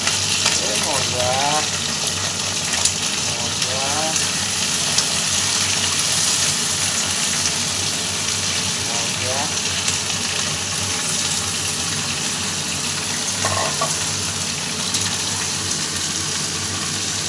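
Local chicken meat fries in an earthen kadai and is stirred, giving a steady loud sizzle with occasional scraping strokes and faint voices in the background.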